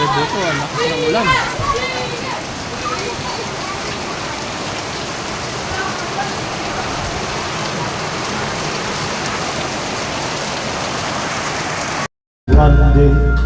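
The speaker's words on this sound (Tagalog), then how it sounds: "lakas ng ulan" Heavy rain pours down in a steady, dense hiss, with a voice and music over it at first. The rain continues loud and unbroken until a brief dropout and an abrupt cut near the end.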